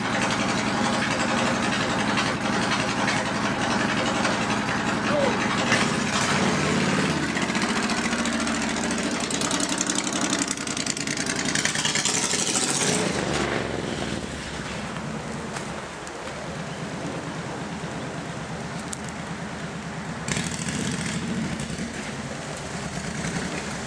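A Suzuki C90 Boulevard motorcycle rides off around the block, its engine loud and close at first, revving and rumbling, then easing off and fading to a softer, more distant drone.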